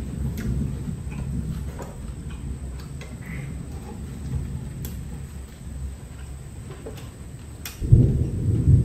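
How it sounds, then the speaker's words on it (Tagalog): Heavy rain pours steadily in a rural home at dinnertime, a constant low rumble of rainfall with faint ticking sounds, and a deeper thunder rumble swells near the end. "Mukhang malakas na naman ulan mga kaya."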